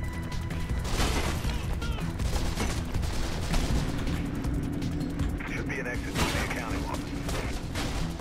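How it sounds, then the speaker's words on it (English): Dense gunfire from enemies in the video game Mirror's Edge rattles continuously under loud game action and a player talking, with no pause through the whole stretch. "they're shooting at me. They have guns"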